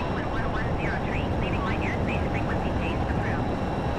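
Jet engine roaring at full military power with afterburners during takeoff in a flight simulator, a dense steady rumble with whining overtones throughout, under a speaking voice.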